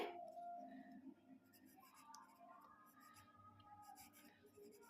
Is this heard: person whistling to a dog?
no